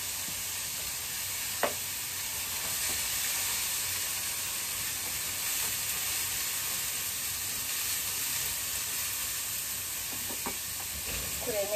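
Food stir-fries in a pan while a lunchbox is being made, a steady close sizzle and hiss running throughout, with a few brief clinks of the utensil and quiet talk in the background.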